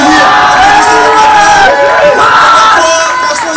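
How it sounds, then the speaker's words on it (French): Crowd at a French rap battle event cheers and whoops loudly, a dense sustained roar of voices filling the whole stretch with shouts rising above it. "On peut les applaudir."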